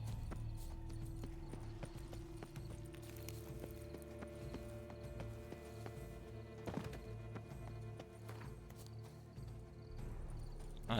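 Horse hooves clip-clopping in The Witcher 3 video game, a steady trotting rhythm over game music and ambience, with no talking.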